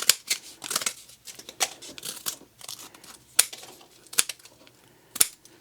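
VT Vamplier Tools 011 combo scissors cutting through material: sharp, crisp snips and crinkly rustling come in irregular bursts, with several distinct louder cuts spaced toward the end, close and without voices.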